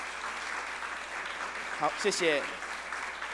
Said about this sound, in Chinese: 请大家一起鼓掌欢迎他们。